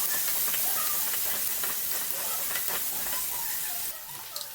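Green peas sizzling in hot oil in a pan, with a steady broadband hiss and light crackle throughout and faint stirring clinks, the sizzle dropping slightly near the end.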